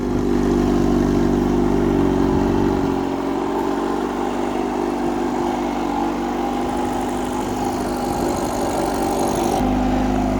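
A 1955 Micromax tractor with a Peugeot 203 petrol engine runs close by, a loud, steady mechanical rumble that eases slightly after a few seconds and keeps going throughout.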